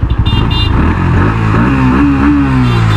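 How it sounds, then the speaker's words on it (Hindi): A 2023 Bajaj Pulsar NS160 underbelly exhaust revs loudly up close, throbbing pulses rising into a sustained, climbing engine roar. "एंड एग्जॉस्ट का साउंड आपको मैं फिर से सुना देता हूँ,"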